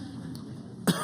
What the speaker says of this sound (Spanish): Me van a disculpar un poco la tos